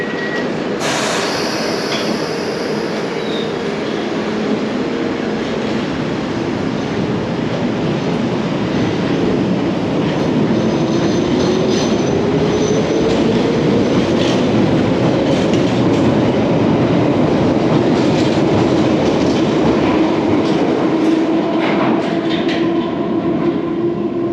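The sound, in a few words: London Underground train departing platform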